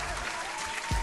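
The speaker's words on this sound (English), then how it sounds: "Can we clap up her statement" Studio audience clapping on a talk show, a short burst of steady applause up close, ending with a low thump.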